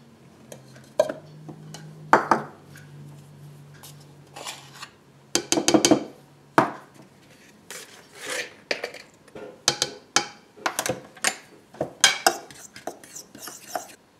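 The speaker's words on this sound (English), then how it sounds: "Now combine your flour, baking powder, and baking soda in a bowl." Dry flour, baking powder and baking soda stirred together in a bowl for blueberry banana muffins, heard as irregular scraping and clinking of a utensil against the bowl in bursts, close and alone without talk.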